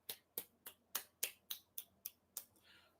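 Sharp claps from one person applauding, about nine evenly spaced, crisp and close, each one quick and separate, alone with no talk and a faint rustle near the end.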